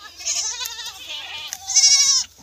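Goats bleat in a stall-fed goat farm, with two or three wavering, drawn-out bleats close by, the last one loudest, and no voices over them.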